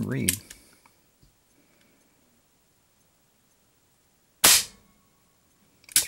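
A Crosman CO2 air gun fires, sharp loud pops standing out from near silence, one at the start, another several seconds later and a third at the very end.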